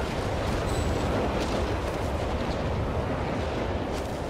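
Nebelwerfer rocket artillery fire in the Company of Heroes 3 video game, a continuous, heavy low rumble of barrage and blasts with faint crackling bursts on top, no talk.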